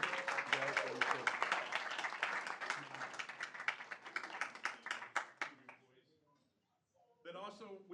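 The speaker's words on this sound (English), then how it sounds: "let's give a round of applause for these people" Applause and clapping from the audience at a Merriam city council meeting honoring recognized people, a steady burst of hand claps that fades to silence before a voice resumes.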